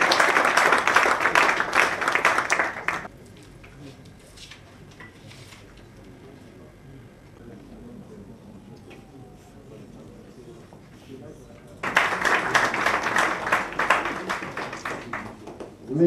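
Audience applause for Guy Vincent Milléné breaks out loudly, fades into a murmuring room for several seconds, then swells again into a second dense burst of clapping.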